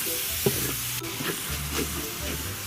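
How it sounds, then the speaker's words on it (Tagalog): Food sizzles steadily in hot oil while a utensil scrapes and stirs it in the pan, with occasional soft knocks. "Saka natin siya hahaluin para ma-prito."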